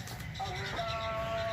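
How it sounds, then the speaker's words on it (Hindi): Mountain goats at a Vehari zoo bleat in short wavering calls over a steady outdoor murmur of wind and crowd noise, fairly distant and moderately loud. "पहाड़ी बकरी हैं"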